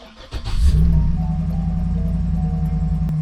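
A repaired truck engine cranks and catches, then settles into a steady, loud idle with a low, even rumble that holds to the end.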